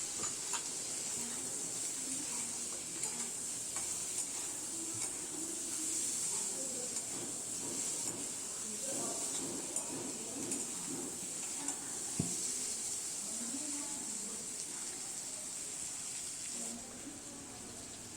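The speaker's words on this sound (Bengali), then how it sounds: "এবার আমি যে আলুটা আগে থেকেই ভেজে রেখেছিলাম সেটাও এর মধ্যে দিয়ে দিচ্ছি ডুমুরের সাথে ভালো করে উল্টে পাল্টে" Pre-fried potatoes and dumur (figs) are tossed and fried together in a pan, giving a quiet, steady hiss and sizzle with soft scraping and stirring taps throughout.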